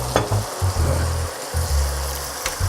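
Wine hits rice in a hot pan for an asparagus and Italian sausage risotto, giving a close, steady sizzle with bursts of low bubbling and stirring throughout.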